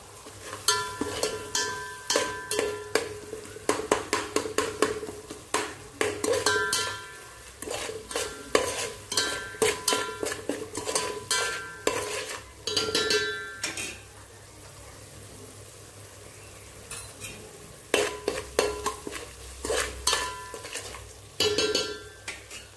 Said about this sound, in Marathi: आता याला छान मस्त फिरवून घेते।